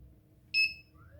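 An Arduino-built home alarm set up in a garage gives a single short, high electronic beep at low volume, followed by faint fainter tones against quiet background.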